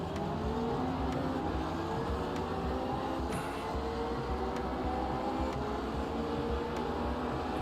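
Race cars in a racing video game, among them a rapid BMW and an LMDH prototype, give a steady loud engine drone with shifting tones throughout, with faint repeated clicks over the continuous roar and no voices.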